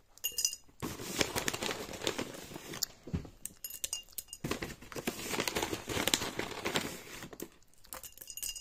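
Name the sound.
sugar cubes put into a glass jar with carrots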